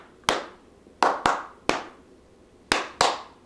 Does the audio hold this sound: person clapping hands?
yes